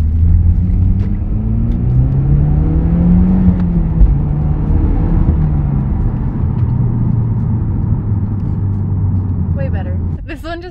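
A Subaru STI drives with a steady low engine rumble and some shifts in pitch, and a voice speaks over it throughout.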